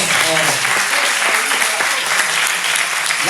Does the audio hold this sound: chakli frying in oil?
no